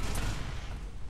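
Dense gunfire fills a firefight in the video game F.E.A.R. 3, a rapid, loud barrage of shots heard close throughout the brief moment.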